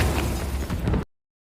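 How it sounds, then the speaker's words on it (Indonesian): A phone-triggered bomb goes off in the 2020 film Petla: a single loud, harsh blast of about a second with crackling debris, stopping abruptly into silence. "SMS pinjaman online pun masuk dan bom pun meledak"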